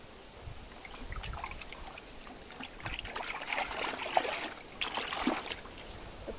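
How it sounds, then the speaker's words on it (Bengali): Water trickles and splashes as aloe vera leaves are rinsed, a faint, irregular run of drips and small pours with a few brighter splashes near the end. "তার জন্য অ্যালোভেরাটাকে কিন্তু তোমরা ধুয়ে নেবে অবশ্যই"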